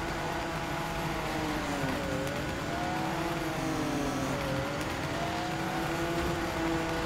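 A Ford GT engine in Torque Drift hums at a steady drone, its pitch dipping and rising in slow sweeps as it revs, continuous and close.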